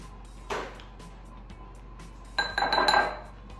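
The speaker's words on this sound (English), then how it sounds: "I'm going to get 3 teaspoons of the cinnamon, and I'm going to mix those" A spoon stirs granulated white sugar and cinnamon together in a bowl, giving two short bursts of bright clinks and scraping against the bowl, close up, with no speech.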